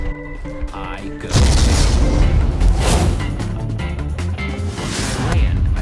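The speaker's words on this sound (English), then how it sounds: "The second those fireworks go off" Fireworks explode in the video game Minecraft Story Mode, a sudden deep boom followed by a sustained rumbling barrage of bursts layered over game music.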